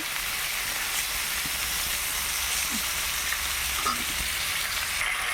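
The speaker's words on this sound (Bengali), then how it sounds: "মাছের মাথাগুলিকে দেখো কড়াইয়ের মধ্যে বসিয়ে দিয়েছি" Fish heads fry in a wok in a little oil, making a soft, even sizzling hiss that holds steady throughout, with a few faint clicks and no speech.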